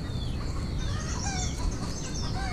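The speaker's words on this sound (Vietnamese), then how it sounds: "Cái gà vịt mới sáng là quá," Chickens and ducks clucking together in a morning farmyard, a steady busy chorus of overlapping calls that stays fairly close and fills the whole stretch without any talking.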